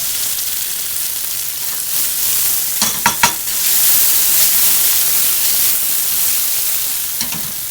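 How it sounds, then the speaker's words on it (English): Artichokes searing in a hot pan give a loud, steady sizzle throughout, broken near the middle and again toward the end by a few sharp clacks of stirring or turning. "get these artichokes all nice and seared"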